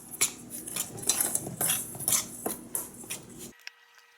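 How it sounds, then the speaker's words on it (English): Dry cornbread ingredients are stirred together in a mixing bowl, a close, steady run of scraping and clinking taps for about three and a half seconds before it stops abruptly. "Now mix all the dry ingredients together really well."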